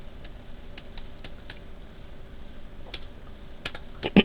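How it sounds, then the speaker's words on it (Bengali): Someone types on a computer keyboard while filling in a Microsoft Word table, with sparse, quiet clicks spaced a few tenths of a second apart. A quicker cluster of keystrokes ends with a louder key press, and no voice is heard. "ট্যাব কি প্রেস করে পরেরটায় যাই"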